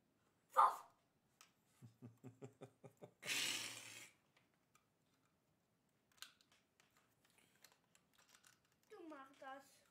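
A person mimics a dog's barking with a quick run of short, rhythmic voiced yelps, followed by a louder breathy burst, then scattered soft sounds and a brief voice near the end.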